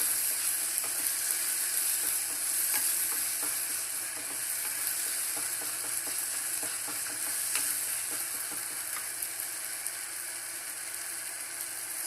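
Smashed tomatoes with turmeric powder sautéing in a pan, a steady bright sizzle with occasional stirring clicks and scrapes, close and continuous throughout.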